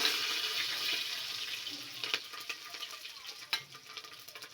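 Cumin, pepper and garlic frying in a pan for dal khichdi. A soft sizzle fades gradually, broken by several sharp clicks and scrapes of a spoon against the pan.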